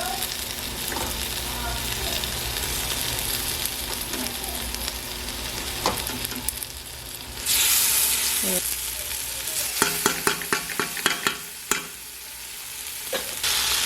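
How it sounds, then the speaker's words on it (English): Mango pieces sizzle and fry in a hot pan for sweet Trini-style chutney, a loud steady hiss with a burst as food goes in, then sharp spoon scrapes and stirring clatter. "let this fry up for like about a minute and then we are going to add the mango"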